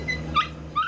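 Shelter dogs at an airport awaiting an airlift whimper and yip in a few short, high, nearby cries over a steady low hum of background noise.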